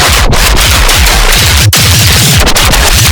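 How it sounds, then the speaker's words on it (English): Loud, distorted glitchy dubstep fill of repeated downward-pitching tape-stop sweeps, chaotic and dense, with brief dropouts between bursts. "go back to the first one, and use the tape stop button to go absolutely crazy"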